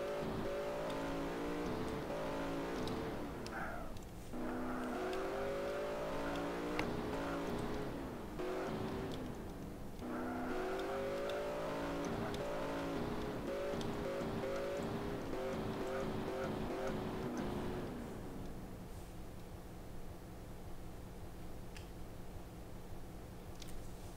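A car drives through a roleplay video game with a steady engine hum that revs and shifts, then settles into a quieter drone, with little talk.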